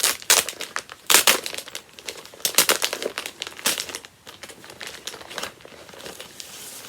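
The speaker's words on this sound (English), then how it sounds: "Sorry about the crinkling," Plastic packaging around hand-dyed fabric crinkles loudly and close up, in irregular bursts of crackling handling with no one speaking.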